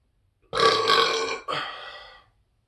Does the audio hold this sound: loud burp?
yes